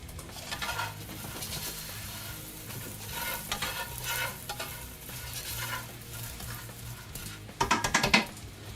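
Vegan jambalaya with black pepper stirred in a pot: a continuous frying sizzle under repeated scraping stir strokes and clinks of a utensil on the pot, ending in a louder burst of rattling, no voices.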